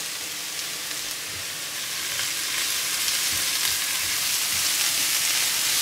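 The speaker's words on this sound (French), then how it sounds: "Je vais donc revenir gentiment le chou pak choi." Pak choi cabbage sautés in a hot pan over high heat for a beef stir-fry, giving a steady, close, even sizzle that swells slightly partway through, with no talking.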